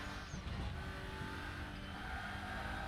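A Lynk & Co touring car races around Monza in a WTCR racing sim, its engine droning steadily at moderate, fairly quiet level with a slight revving swell early on.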